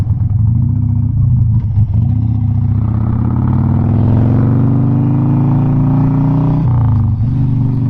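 A 2004 Harley-Davidson Sportster 1200 Custom motorcycle is ridden, its V-twin engine rumbling loud and close and climbing in pitch as it accelerates, then dropping sharply as it slows to brake, with steady wind noise throughout.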